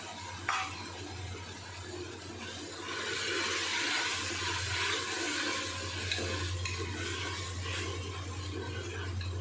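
Mint leaves sautéing and being stirred in a pan for chicken biryani, with tomatoes already cooked down, give a steady broadband sizzle and scraping over a low hum, growing louder after the first few seconds and running continuously.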